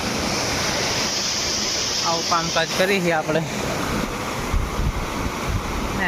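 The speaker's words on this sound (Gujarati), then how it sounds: "આ પાણી અહીં આવે નર્મદાનું ચોવીસ કલાક" Narmada canal water rushing steadily through a large tank or channel, a loud continuous broadband roar that runs the whole time, with a voice talking briefly over it in the middle.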